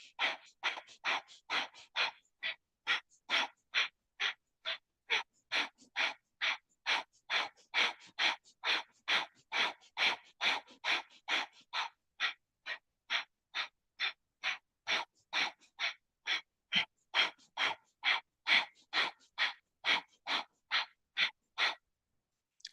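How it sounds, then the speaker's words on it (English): Breath of fire in Kundalini yoga: rapid, forceful nasal breaths pumping in a steady, even rhythm of about two per second, close and clear with nothing else heard. "keep the breath of fire steady and consistent."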